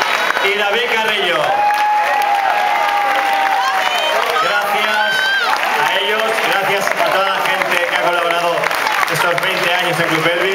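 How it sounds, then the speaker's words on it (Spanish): A concert audience applauds and cheers at a farewell show at Apolo in Barcelona, while a loud announcer speaks over the continuous clapping. "Marcos Copete, un aplauso para él."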